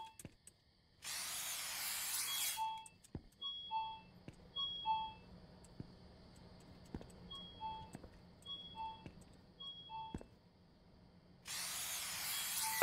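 Spray bursts aimed at rats in the Convenience Store video game: two loud hissing blasts bracket a stretch of quiet game sounds with short beeping tones and clicks.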